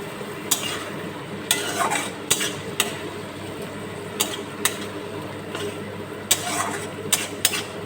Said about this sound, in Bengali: টমেটো পেঁয়াজ আদা কাঁচা লঙ্কা ভালো করে এখন কষবে